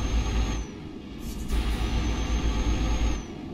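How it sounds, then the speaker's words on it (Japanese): Stock truck engine sound in Euro Truck Simulator 2, a heavy low rumbling drone that steadies, dips briefly, then swells again, with a faint high whine above it and no talk. "これが普通のエンジン音でございます。"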